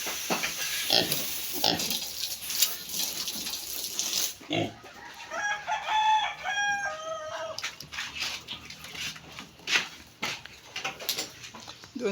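Pigs on a small farm grunting and squealing in bursts, close and fairly loud, with a rooster crowing in a stretch of tonal calls midway.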